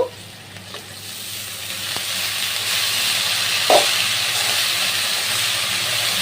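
Water spinach hits a pan of fried onions and sizzles loudly, a bright steady hiss that swells and holds with a few clinks of a utensil against the pan.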